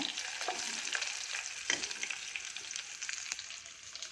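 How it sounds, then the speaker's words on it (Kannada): Crushed garlic, curry leaves and a couple of dried chillies sizzle in hot oil with a steady crackle and occasional spatter, faint and close, with light stirring. "ಚಚ್ಚಿದ ಬೆಳ್ಳುಳ್ಳಿ ಕರ್ಬೇವಿನ ಸೊಪ್ಪು ಒಂದೆರಡು ಒಣಮೆಣಸಿನ್ಕಾಯಿ ಹಾಕ್ತಾಯಿದ್ದೀನಿ"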